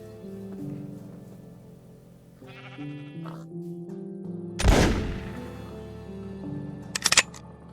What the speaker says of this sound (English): I decided that I wanted to test fire the musket.